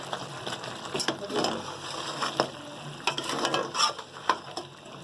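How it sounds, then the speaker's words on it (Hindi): A spoon stirs cooked-down tomato paste in a pan for beef karahi, giving soft, irregular scraping and squelching strokes with light sizzling underneath, close and moderately loud, no talking. "चम्मच चलाते हुए पूरा टमाटर का पेस्ट बन गया है।"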